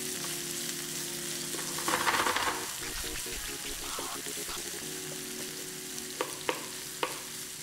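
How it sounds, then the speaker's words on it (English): Chopped onions frying in a pan as the base for sausage pasta, a steady broadband sizzle throughout with a few sharper clatters and scrapes of stirring toward the end; no one speaks. "at this point the onions are starting to get a little translucent"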